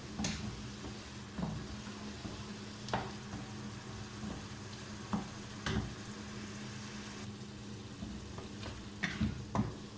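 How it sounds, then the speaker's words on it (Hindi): Chicken for jalfrezi frying over a high flame, with a steady low sizzle and intermittent stirring clatters and scrapes of the spoon against the pan, fairly quiet and close. "थोड़ी देर के लिए और पकाएंगे तेज आंच पे इसको भूनेंगे।"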